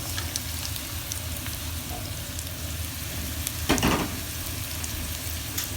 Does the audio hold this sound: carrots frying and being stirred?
yes